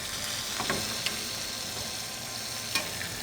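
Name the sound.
steak searing in butter in a vintage cast iron pan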